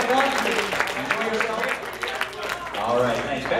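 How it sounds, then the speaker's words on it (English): A game show studio audience gives the contestants a round of applause, steady clapping filling the short stretch, with voices and cheering blended into it. "Let's give them a big round of applause."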